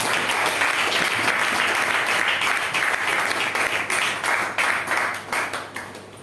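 A church congregation at a Sunday service bursts into loud, close applause, dense enthusiastic clapping that holds strong before thinning and tapering off toward the end.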